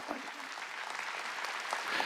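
Congregation applause during a Korean Sunday church service, a brief, steady wash of many hands clapping at a moderate distance, with a voice speaking faintly over it.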